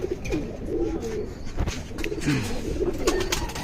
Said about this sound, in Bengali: ও আর্মি কবুতর।